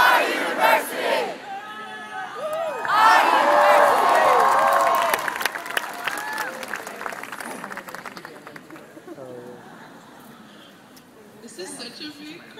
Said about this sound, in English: This is such a big crowd.